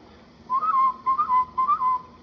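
Someone whistles a signal by mouth three times in a row, each a short rising-and-falling tune. It is clear and close over a quiet background.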